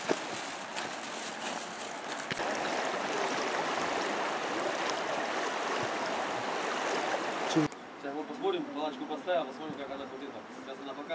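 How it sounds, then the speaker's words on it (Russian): Fast-flowing, deep river water rushing steadily in a broad loud wash on the Northern Urals, then cutting off as people talk faintly over quieter surroundings. "Вода действительно очень быстрая и, судя по всему, очень глубокая река."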